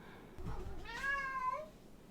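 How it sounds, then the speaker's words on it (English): A single drawn-out cat meow, close and fairly loud, rising then falling in pitch over about a second, with no other sounds around it. "And that was my cat."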